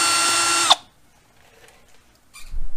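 A power drill driving a T13 or T15 Torx bit to remove a bolt from a Western Ultra Mount plow mount on a 2019 GMC spins loudly and steadily for under a second, then stops abruptly, leaving faint handling noise and a low thump.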